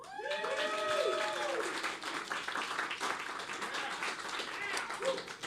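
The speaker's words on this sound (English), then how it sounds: "by all means, feel free to applaud" Applause from a stand-up comedy audience runs for several seconds as a steady patter of claps at moderate distance, with a voice speaking over the start of it.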